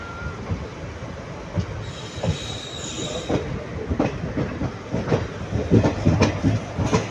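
A train rolls at a railway platform on a Karur to Tirunelveli run, with steady close wheel rumble, rhythmic clickety-clack, faint squeals and a continuous mechanical roar throughout.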